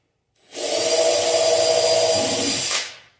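A power drill whines steadily as it bores into wood for a few seconds, close and loud, then winds down and stops.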